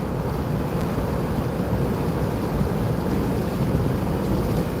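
Steady, heavy wind buffeting the microphone while travelling by road in the Kentucky countryside near Elizabethtown, a constant low rumble and roar that continues unbroken and fairly loud, with no talking.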